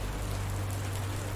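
Steady, dense rain falling continuously at even loudness, a broad hiss of drops with a low rumble underneath and no other sounds.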